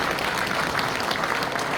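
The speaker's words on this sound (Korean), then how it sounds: "박수로 맞아주시기 바랍니다." A standing congregation applauds an elder attending a Korean national presbyterian elders' association general meeting; dense, steady clapping throughout, fairly loud and close, with no voices over it.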